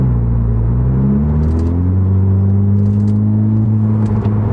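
VW Golf R fitted with an AWE SwitchPath exhaust cruising in eco mode with windows down, a steady low droning exhaust hum that shifts pitch as revs change, heard from inside the car without talk.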